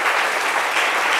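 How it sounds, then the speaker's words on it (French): Dense crowd applause fills the space, a brief continuous roar of many hands clapping at once. "Je vais applaudir ça."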